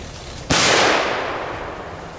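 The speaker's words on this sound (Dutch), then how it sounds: "Ja, het is gewoon legaal vuurwerk, hoor." A single loud blast from legal Belgian fireworks set off outdoors, sharp and close, trailing into a long fading rumble.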